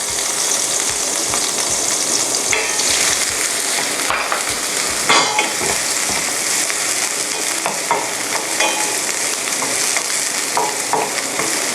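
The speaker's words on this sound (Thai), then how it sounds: "คุณผู้ชมนำหอมใหญ่ค่ะ ที่สับไว้ลงไปผัดค่ะ" Chopped onion sizzles and crackles in butter in a hot pan over medium heat, a steady dense fry with occasional stirring scrapes, loud and close with no talk.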